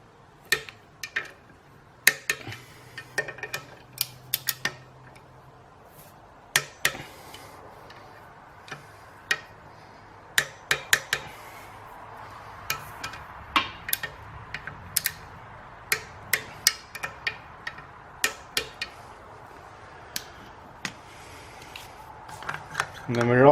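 A torque wrench set to 15 foot-pounds clicks repeatedly while bolts are tightened during a clutch install on a Toyota truck with a TDI engine swap, giving sharp, irregular ticks over a low hum with speech present.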